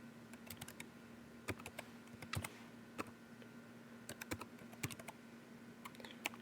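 Computer keyboard typing as an IP address is entered while configuring an ESXi server installation, with quick irregular keystrokes and short bursts of clicks at a steady close-up level over a faint hum.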